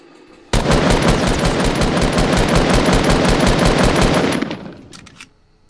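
A rapid, loud burst of automatic gunfire from the video game Fortnite rattles continuously for about four seconds, then cuts off and fades.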